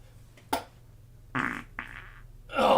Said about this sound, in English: Oh, man, that was a good fart.